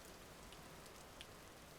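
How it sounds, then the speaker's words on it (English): Rain falling in the survival video game Vintage Story, a steady, faint hiss of drops on surfaces with no other sounds. "my torch went out here, of course, because it's raining."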